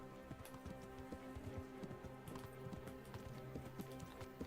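A horse in the Kingdom Come Deliverance video game trots steadily, its hooves clip-clopping in a quick, even rhythm, fairly faint against a soft, rain-like background hiss.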